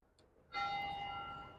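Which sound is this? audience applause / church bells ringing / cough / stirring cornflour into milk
church bells ringing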